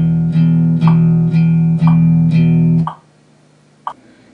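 A steady run of eighth notes in a blues rhythm, played as an evenly pulsed guitar or keyboard tone with about five clear repeated attacks, loud and alone, ending in a decaying note and a single faint later pluck.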